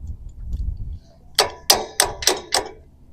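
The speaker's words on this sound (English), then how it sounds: "So I'm just hammering it up here" A hammer strikes a metal bracket up against a fifth wheel trailer's undercarriage, five sharp metallic clanks in quick, fairly even succession after a quiet start, close and ringing briefly.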